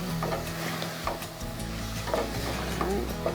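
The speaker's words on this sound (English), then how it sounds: "smell that garlic cooking" Minced garlic sizzles and crackles steadily in a hot pan as a home cook prepares an Italian sausage pasta bake, with occasional stirring scrapes and soft clinks close by.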